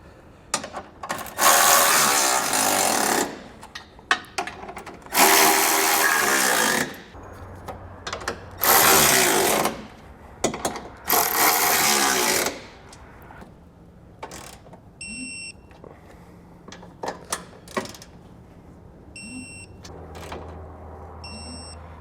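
Power tool bursts from tightening Curt trailer hitch fasteners with sockets and extensions on a 2021 Toyota C-HR: several loud, close whirring runs of a few seconds each, separated by quieter clinks and handling noises.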